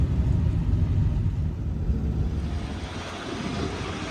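A truck towing a dumpster trailer drives along, a steady low rumble with road and wind noise that stays constant and close throughout.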